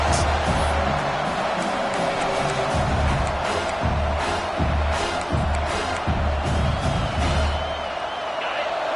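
A stadium crowd at a South Carolina versus Ole Miss college football game roars loudly and continuously on a fourth down, a dense wall of cheering with rhythmic surges and no clear speech.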